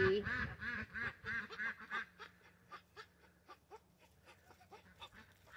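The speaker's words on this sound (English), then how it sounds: "Do you guys hear that whisper quack? That's that's boys. That's the sound they make." Soft, raspy male duck quacks repeat in short bursts, fading into quieter, breathy whisper-like quacks with a few voices murmuring nearby.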